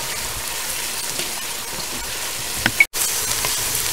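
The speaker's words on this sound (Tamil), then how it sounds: "ஸோ வெங்காயம் வதங்கிட்டு இருக்கு" Onions, ginger and masala sautéing in a pan for Dindigul Thalappakatti-style mutton dum biryani, a steady close sizzle and crackle of frying with a brief clatter near the end.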